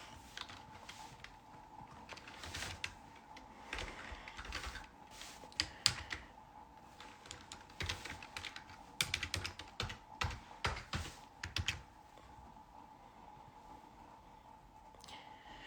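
Someone types on a computer keyboard in quick, irregular bursts of soft taps, quiet and near, with a denser run of keystrokes midway and no talking.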